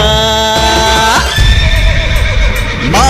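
A horse at a temple festival neighs loudly and close, a long shrill whinny that wavers and falls, then a second rising whinny near the end over a dense background of crowd noise.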